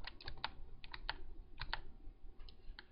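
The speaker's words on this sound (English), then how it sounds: "I keep using these arrow keys until I find someplace." Arrow keys tapped on a computer keyboard while playing GeoGuessr, giving crisp, quiet clicks in irregular bursts of single and double presses, close to the microphone with no talk.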